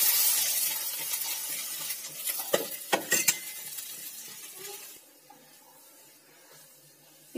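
Potatoes dropping into hot oil with cumin, mustard seed, fenugreek, nigella and fennel, a steady close sizzle with a few sharp clattering stirs, then settling into a quieter fry.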